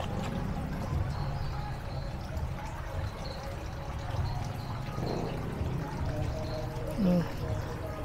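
Water gushes and splashes from a DIY carwash pump in a steady, moderately loud pour, while voices talk over it throughout.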